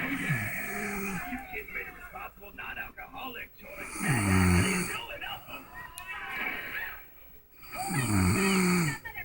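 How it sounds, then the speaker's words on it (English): A sleeping woman snores heavily and repeatedly, each deep rasping inhale rising in loud, regular cycles a few seconds apart, recorded close by in a quiet room. "I'm just gonna prove to her how bad she was snoring in the morning"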